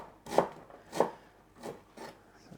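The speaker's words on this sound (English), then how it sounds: "then one onion I need to dice. I'm just going to do a rough dice." A kitchen knife roughly dices an onion on a cutting board, giving four distinct, evenly spaced chops at close range with no voices.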